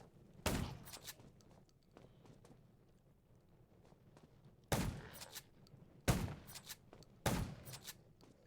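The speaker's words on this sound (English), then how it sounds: "Gunshots will attract more zombies." Four loud, sharp gunshots ring out at irregular intervals in the mobile game Undawn, with low background noise and scattered clicks between them.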